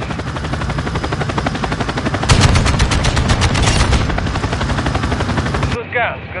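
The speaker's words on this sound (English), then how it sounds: "they're shooting at us" Rapid automatic gunfire from Warzone gameplay, a loud sustained burst with a helicopter-like rumble beneath, then a sudden cutoff near the end.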